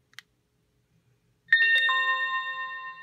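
A faint click, then a bright electronic chime of several overlapping tones rings out and slowly fades as a Penfriend2 label reader powers on.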